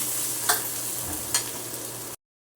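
Masala with salt and coriander stirred and roasted in a pan: a close, continuous sizzle with a couple of scraping strokes of the spoon, then the sound cuts off abruptly.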